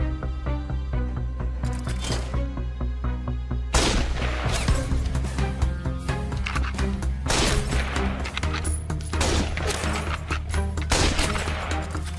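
Rapid rifle shots fired at a row of targets ring out in a fast, dense volley of sharp cracks over a steady background score, loud and close, with no talk.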